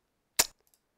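A single sharp gunshot from a wargame set in a World War II invasion of Britain, brief and crisp, followed by faint small clicks and nothing else.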